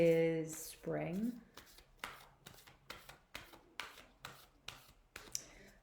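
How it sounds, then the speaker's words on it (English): Oracle cards being shuffled by hand, a regular series of crisp, short card slaps and shuffles repeating roughly every half second, close and moderately quiet, following a brief vocal sound at the start. "And I just shuffle until it feels right."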